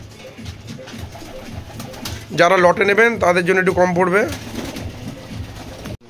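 Desi pigeons coo in a loft in Howrah's Liluah, a soft murmur sitting under someone talking loudly close by.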